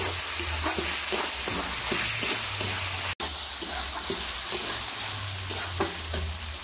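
Mixed vegetables coated in spices and roasted cumin powder fry and get stirred in a pan, with a continuous near sizzle and repeated scraping strokes of a spatula, briefly cut off once midway.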